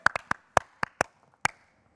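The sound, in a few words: audience applause for comedian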